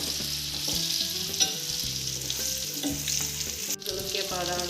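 Spices, dried red chillies and olives frying in hot oil for an olive pickle, a steady close sizzle with stirring clatter and scraping throughout.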